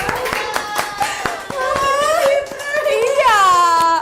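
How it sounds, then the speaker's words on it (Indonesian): A classroom of pupils clapping for a group, scattered sharp claps at first under overlapping children's voices and squeals, with talk and excited calls growing louder toward the end. "Tepuk tangan untuk kelompok 2."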